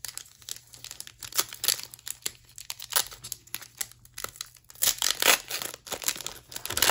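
A foil pack of Japanese trading cards being torn open and handled, with continuous close crinkling and crackling of the wrapper in bursts and several sharper tearing rips, loud and without speech.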